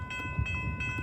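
A train horn sounds at the Minaker Drive level crossing in Antioch, a steady sustained tone over rumbling rail noise for about a second.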